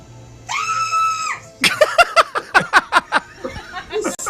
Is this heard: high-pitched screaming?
yes